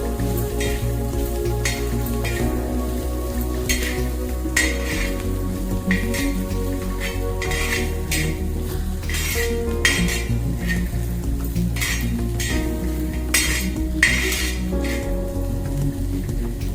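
A metal spatula scrapes and clinks repeatedly against an iron tawa while bitter gourd mixed with crushed peanut powder is stirred over a soft sizzle, with sharp taps recurring every second or so.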